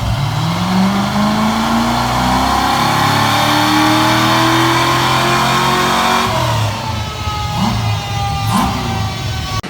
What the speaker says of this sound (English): David and Thomas did a warm-up run on the dyno, and there was a small problem